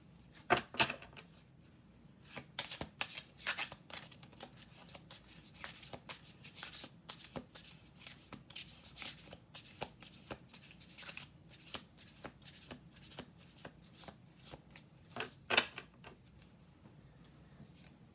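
Tarot cards are shuffled by hand in quick riffling bursts and soft slaps, close and fairly quiet, with brief pauses between rounds and no talking.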